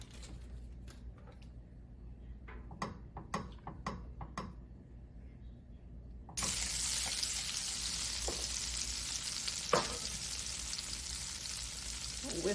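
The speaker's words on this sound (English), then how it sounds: "Melt about 3 tablespoons of butter over" Butter melts over medium heat in a pan as the start of a roux, first heard as faint scattered ticks, then a steady, loud broadband sizzle that takes over partway through and continues evenly, with one brief clink near the end.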